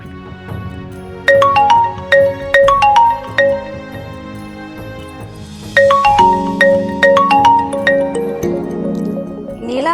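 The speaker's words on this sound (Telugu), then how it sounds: "నీలాంబరి ఎందుకు కార్తీక్ ఫోన్ చేస్తుంది?" Mobile phone ringtone of an incoming call: a loud, bright repeating melodic chime that plays two phrases, pausing briefly between them, with no talk over it.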